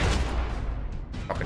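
Shotgun blast in Max Payne 3, a loud booming discharge with heavy low-end rumble filling the moment, followed by a second sharp report.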